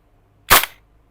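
A KWA PTS Masada gas blowback airsoft rifle fires one loud, sharp shot up close, with a short decaying tail and a faint click after it.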